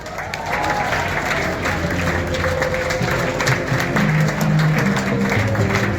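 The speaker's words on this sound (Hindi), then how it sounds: "एक बार जोरदार तालियां" An audience claps at a motivational seminar run by a coaching institute, a sustained wash of hand claps heard at moderate level with some tonal background sound layered underneath.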